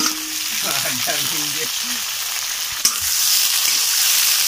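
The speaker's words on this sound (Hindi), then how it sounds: "थोड़ा देर के लिए अभी फ्राई करेगा तो ग्रेवी आने के लिए।" Onion, chili and tomato fry in a pan with a loud, continuous sizzle, while a voice speaks briefly near the start and a single clack sounds partway through.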